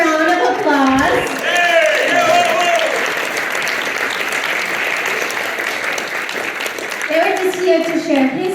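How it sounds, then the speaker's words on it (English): Loud, sustained applause from a large crowd at a presentation in Vienna, clapping steadily throughout, with a voice speaking over the start and end. "Let's give him a big warm round of applause."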